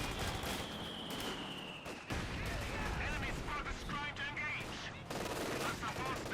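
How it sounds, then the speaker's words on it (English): Battle din from Company of Heroes 2 in a 1v1 match, with a Panzer IV firing on US riflemen amid dense, continuous gunfire and artillery crackle, a high whine in the first two seconds and no clear break in the noise. "Panther 4 firing at the Rifleman"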